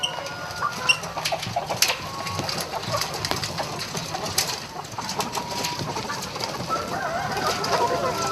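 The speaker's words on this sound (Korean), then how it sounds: "밤새 게사 안에서 잠을 잔 닭들이 기다렸다는 듯 쏟아져 나옵니다." Chickens stream out of a coop on a farm in Danyang, clucking and chattering in a busy overlapping chorus at close range. A low engine-like hum and scattered rustles run underneath.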